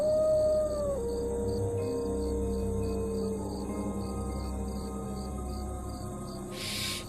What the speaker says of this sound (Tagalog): may marinig silang mga alulong ng aso